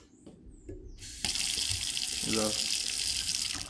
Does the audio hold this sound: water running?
yes